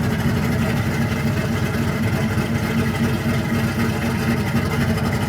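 A 1981 Camaro Z28 V8 idles with its exhaust cutouts open, giving a loud, close, steady low rumble with a fast, even throb and no voices over it.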